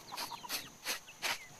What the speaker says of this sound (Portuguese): nós estamos com 45 galinhas hoje